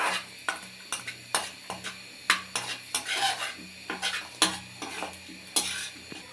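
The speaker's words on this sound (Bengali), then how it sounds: "বাদামটি একটু হালকা করে ভাজা নেব" Peanuts lightly frying in a pan for sweet payesh, a spoon scraping and stirring them with repeated clinks and scrapes over a soft sizzle, close and fairly loud, no voices.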